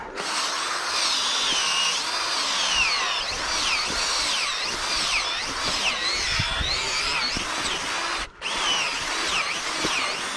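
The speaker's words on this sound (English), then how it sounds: "Where's my drill? Now I'm gonna dig the hole." A power drill digging a hole in the ground whines steadily at high pitch, its tone wavering as it bites, with one brief pause near the end.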